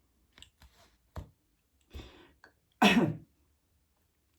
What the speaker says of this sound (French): Vous voyez, je tousse.